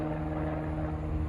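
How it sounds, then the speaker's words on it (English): A propeller airplane drones overhead in a steady, fairly loud low hum at a pigeon-racing loft, with no voices in the brief moment. "It's an airplane."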